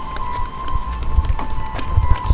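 Cicadas drone in a continuous high, loud buzz at a spooky outdoor spot at night, with scattered thumps and footsteps below.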